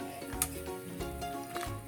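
Water simmers on the stove before broccoli goes in for blanching, a steady close bubbling sizzle with a few light clinks of pot and utensil.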